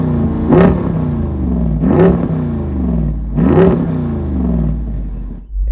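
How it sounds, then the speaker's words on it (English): A 2022 Jeep Wrangler Rubicon 392's V8 revs three times through its active quad exhaust in strong, evenly spaced bursts, loud and close, with a rumbling idle between each blip. "we get a really sweet quad exhaust with an active exhaust system that sounds the part"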